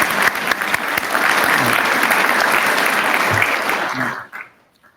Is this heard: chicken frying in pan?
no